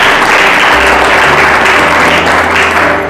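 A church audience applauds to glorify the Lord after a correct Bible quiz answer, a loud, steady wash of many hands clapping that carries on without pause for about three seconds.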